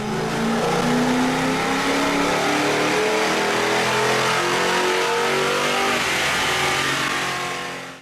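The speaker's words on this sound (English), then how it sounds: "Now let's see what these BBK headers do on the dyno" Car engine fitted with BBK shorty tuned-length exhaust headers, stock midpipe, stock mufflers and stock tune, revving hard on a dyno; a loud, steady wide-open pull rising in pitch over eight seconds, then cutting off at the end.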